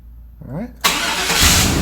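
A car engine, just fitted with a new fuel pump, cranks briefly with a whirring starter, then catches sharply and settles into a loud, steady idle close by.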